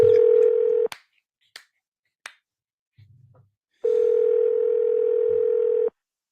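Telephone dial tone while calling someone back, a loud steady tone that cuts off, a few sharp button clicks, then the steady tone again for about two seconds before stopping.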